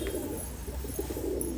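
Breeding pair pigeons cooing close by, soft low rhythmic coos repeating over a quiet background.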